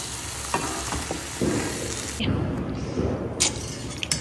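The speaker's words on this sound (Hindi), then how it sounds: "पनीर, थोड़ा सा गर्म हो जाए अंदर, हम थोड़ा उसको ग्रिल कर देंगे।" Paneer grills in a pan with peri peri red pepper sauce, making a continuous sizzling and frying hiss with a few louder crackling bursts, heard up close.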